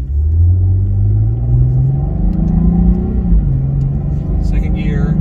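A Cadillac ATS-V pulls away from a green light with a loud, deep engine rumble that climbs steadily in pitch through the gear, heard from inside the car with speech over it.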